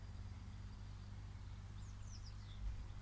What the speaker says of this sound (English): I hear a whole symphony of birds chirping.